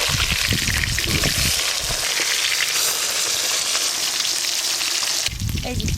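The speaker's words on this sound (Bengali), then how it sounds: "মাছের পিসগুলো খুব ভালো করে লাল লাল করে ভেজে নেব" Pieces of catla fish fry in hot oil in a pan, giving a loud, steady sizzle with crackling for most of the clip and some stirring or clattering near the start and end.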